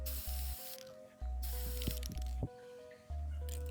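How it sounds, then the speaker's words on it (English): Aerosol spray paint hissing onto a handmade wood chipper costume mask in bursts of about a second each, separated by short pauses and faint handling clicks. "How about some more spray painting?"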